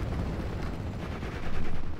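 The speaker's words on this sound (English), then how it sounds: "it looks like they're taking some heavy fire" Dense, continuous battlefield gunfire from the Steel Division Normandy 44 WWII strategy game, a steady rumbling wash of shots and blasts that swells louder near the end, with no voices.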